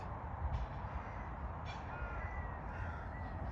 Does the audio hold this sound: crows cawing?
yes